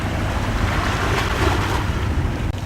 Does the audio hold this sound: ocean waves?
yes